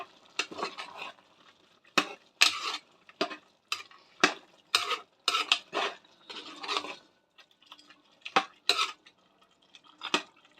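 Mutton curry ingredients with turmeric and salt stirred and mixed in a pot: a run of sharp clinks and scrapes of a spoon against metal, coming in irregular bursts, close and fairly quiet with no talking.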